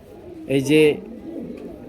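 A single close, low pigeon coo, a short throaty rolling call standing out against a quiet background.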